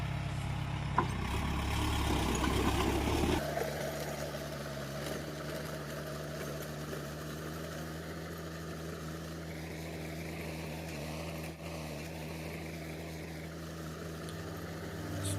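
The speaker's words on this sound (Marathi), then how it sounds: "संपूर्ण पपई ही ट्रॅक्टरच्या माध्यमातून कशी रोटर केली" A steady tractor engine drone runs throughout while rotavating a standing papaya field, low and constant, with a louder rumbling burst in the first few seconds.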